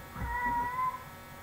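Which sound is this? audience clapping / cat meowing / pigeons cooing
cat meowing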